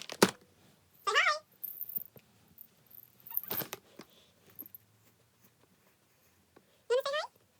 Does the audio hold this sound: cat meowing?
yes